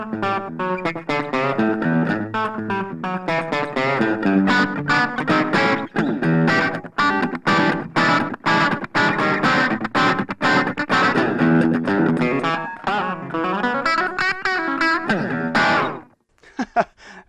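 An electric guitar through a Blackstar Fly 3 amp plays a lively clean riff with a quick slapback delay echo on each note, giving a bouncy country twang, ending abruptly.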